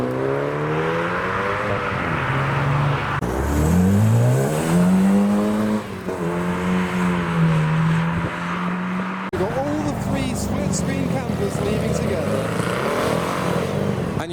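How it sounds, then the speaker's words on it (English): Car engines rev and accelerate away at a custom car meet in a continuous loud roar, pitch rising and falling as a Mini GP departs and a Focus RS pulls in, with busy background traffic. "We have another Focus RS pulling in as the Mini GP departs"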